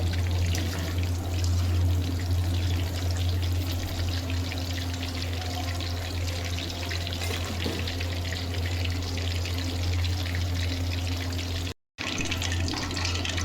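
Chicken 65 fries in hot oil with a continuous, even hiss and bubbling that stays loud throughout, cut by a split-second silence near the end.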